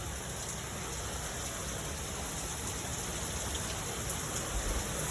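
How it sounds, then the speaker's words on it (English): Rain falls steadily outdoors as a faint, continuous hiss, with no voices. "it's raining"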